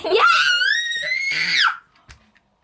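A high, sustained scream from a child or young girl during a live stream, loud and rising, lasting well over a second before breaking off, followed by a short soft sound and quiet.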